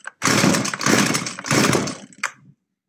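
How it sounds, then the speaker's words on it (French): A small two-stroke McCulloch brushcutter engine, making an odd noise, revs in three rasping bursts, then sputters briefly and cuts out, close by and loud. "je trouve que le moteur, il fait quand même un drôle de bruit"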